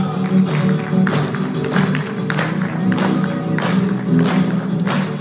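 Audience at a congress clapping along in rhythm to a Peruvian huayno, loud rhythmic palmas over music with a steady pulse throughout.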